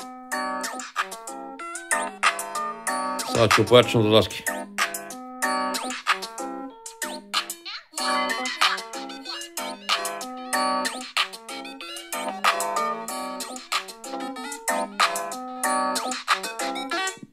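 A ringtone melody plays loudly through the stereo speakers of a OnePlus 15 phone, a steady run of bright chiming notes across the whole stretch, with a short burst of louder noise near the start.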